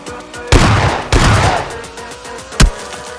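Gunfire in the mobile shooter game PUBG Mobile Lite, with two loud bursts of rapid automatic shots followed by a single sharp report, close and punchy over a quieter game backdrop.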